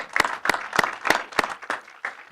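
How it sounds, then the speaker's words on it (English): A small audience at a policy forum claps in a sparse, rhythmic patter of distinct individual claps, fairly close and moderately loud, fading toward the end. "give Rich and Randall a great round of applause"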